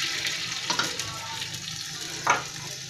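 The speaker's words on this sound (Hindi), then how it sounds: "तो ये मैं घी डाल रही हूँ" Ghee poured into a clay pot (handi) while making kadhi pakora, a steady soft sizzling hiss with a couple of brief louder splashes.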